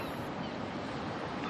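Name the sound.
sea waves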